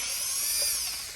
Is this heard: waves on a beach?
no